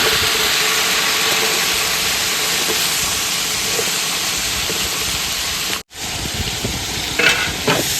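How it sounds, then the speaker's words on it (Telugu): Sliced onions and green chillies fry and get stirred in a pan, loud and continuous sizzling close up, with one abrupt brief dropout near the end and some light scraping after it. "ఇప్పుడు వచ్చేసరికి ఉల్లిపాయలు పచ్చిమిర్చి వేసేసుకున్నాం."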